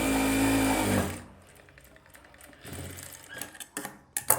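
A sewing machine stitches a blouse, sewing an edge seam along a hook-and-eye strip; a steady close motor whir runs for about a second, then softer intermittent clicks and short mechanical bursts follow.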